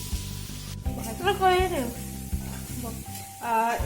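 Water is drained off a pot of boiled taro and potatoes, a steady close hiss and splash that runs the whole time, with a voice talking over it.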